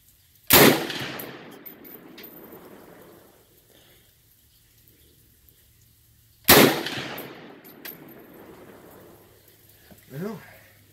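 Bear Creek Arsenal rifle in 7.62x39 firing outdoors, two loud sharp shots about six seconds apart, each trailing into a decaying echo, with a brief voice near the end.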